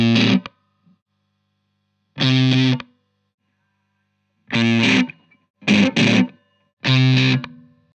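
Electric guitar through an Orange amp plugin with distortion, five short loud chord bursts separated by silences, each stab ringing briefly then cut off, no talking.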